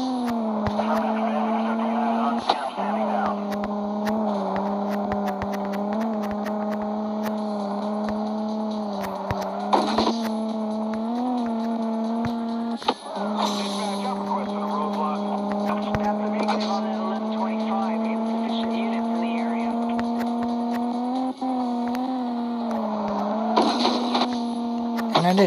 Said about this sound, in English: Drift is hard.